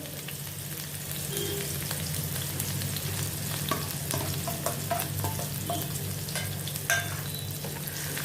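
Chopped onion sautés in a little oil in a kadai, a steady close sizzle with soft stirring scrapes and light spatters running throughout, no talking.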